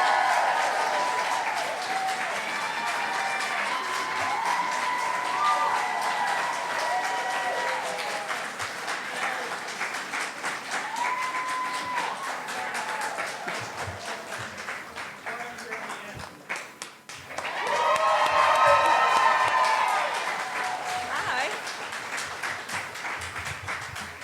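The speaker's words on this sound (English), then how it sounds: "put your hands, your wands, and everything else in the air and clap for Bonnie Wright" A convention crowd applauds and cheers loudly for actress Bonnie Wright at a fan con panel, sustained clapping with whoops and shouts that dips briefly and then swells again near the end.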